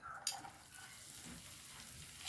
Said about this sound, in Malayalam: കുറച്ച് ഓയിൽ ഒഴിച്ച് കൊടുത്തിരിക്കുന്നു. ഞാൻ ഒരു 2 ചെറിയ സവാളയാണ് ഇട്ട് കൊടുക്കുന്നത്.